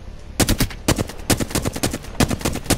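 Rapid automatic gunfire from Apex Legends: several close, loud bursts of evenly spaced shots, each burst a quick rattling string, separated by brief pauses.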